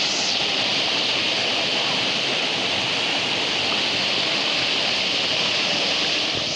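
Steady rushing water flows through a village irrigation canal at Sangulwadi in Konkan, a dense, continuous broadband roar close by that holds even for the whole stretch with no pauses or voices.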